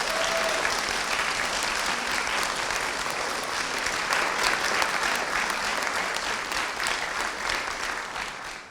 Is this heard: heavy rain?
no